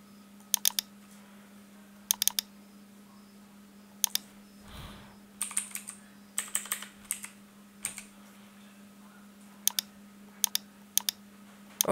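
A computer keyboard is typed on in short bursts of quick clicking keystrokes separated by pauses, close and clear over a steady low electrical hum.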